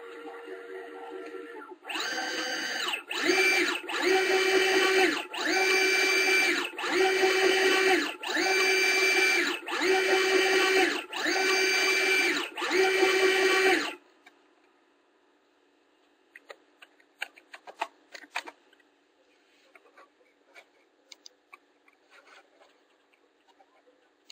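A PWA linear actuator with a 100 mm stroke runs through its motion in repeated motorized whirring bursts with short pauses, loud and close, then stops, leaving faint clicks and rattles.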